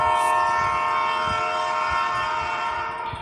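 A train in a narrated story comes to a jolting stop, a loud, steady rumble of wheels and carriage with sustained horn-like tones that fades slightly at the end, with no voices.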